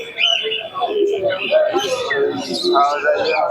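Pigeons coo and chirp busily at a pigeon market in Santipur, many birds calling at once close by, mixed with faint background voices.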